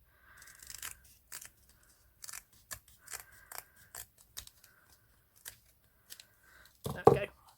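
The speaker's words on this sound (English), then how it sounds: "Trim that down so it looks a bit more professional looking." Scissors trim a faux leather butterfly pinch bow with a string of short, crisp snips close by, some in quick pairs, ending in a louder cut.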